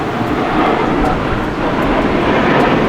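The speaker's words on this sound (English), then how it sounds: "There goes another plane." An airplane passes overhead outdoors, a broad, steady roar that stays loud through the whole stretch with no talking over it.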